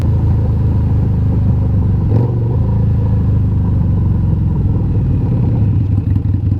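Harley-Davidson Night Rod motorcycle engine, not fully warmed up, running at a steady idle with a continuous low rumble and light clatter, close and loud with no talk.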